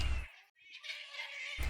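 A cat wails outside at night, a drawn-out, rising and falling cry lasting about a second, loud and close, set between brief louder bursts of noise.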